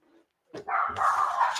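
A dog gives a couple of sharp barks close by, indoors during a live psychic tarot reading as fireworks go off outside, with a short sustained bark-whine running to the end of the clip.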